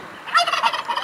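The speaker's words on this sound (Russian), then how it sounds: "Вот такой индюк." A turkey in Khakassia gobbles once, a close, fairly loud burst of rapid warbling notes lasting under a second.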